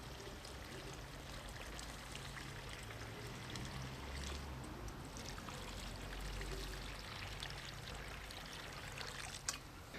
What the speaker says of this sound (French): Maintenant, il va falloir arroser le tout.